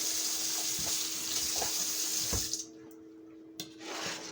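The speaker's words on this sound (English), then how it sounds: "Let's rinse off the knife." Tap water runs steadily into a sink while a kitchen knife is rinsed, then cuts off, with a couple of short clatters and a brief renewed splash near the end.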